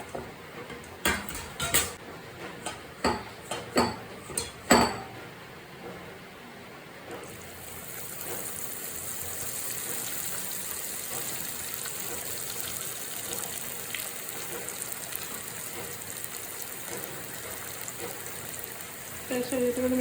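Cauliflower pieces dropped into hot sunflower oil in a pan: a few sharp clinks of utensils, then a steady hissing sizzle of frying that holds at a moderate level throughout, with no talk.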